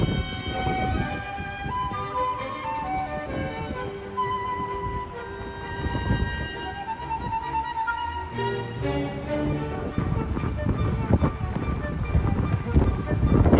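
Cold wind blowing outdoors near the Fujiko Fujio Museum in Japan, a rushing gusty roar buffeting the microphone continuously, with tonal sounds running over it.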